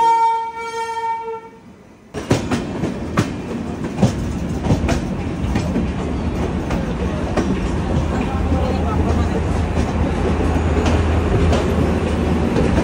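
A train departs Ludhiana Junction, its rumble swelling in abruptly after a quieter tonal hum, then a steady clatter of wheels over rail joints with sharp clicks, loud and close, with a voice talking over parts of it.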